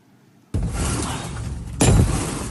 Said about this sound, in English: the moment ICE agents smashed a car window and forcibly removed a man in New Bedford